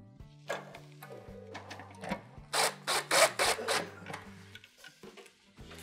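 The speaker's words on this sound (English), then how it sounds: "Now we're gonna reinstall the 2 Phillips style screws" Phillips screws being driven snug into a Whirlpool stove's infinite burner switch, a close run of ratcheting, whirring mechanical clicks and grinding bursts with brief pauses between turns, no talking.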